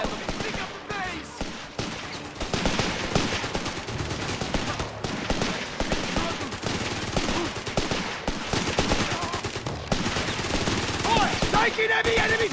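Dense, sustained heavy machine-gun fire in the World War II strategy game Company of Heroes 3, rapid bursts overlapping with other gunfire and battle noise throughout, with soldiers' voices shouting over the din.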